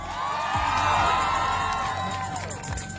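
A protest crowd at a Black Lives Matter rally and school walkout in Ottawa breaks into loud, sustained cheering, whooping and applause, a dense continuous roar from many people close by.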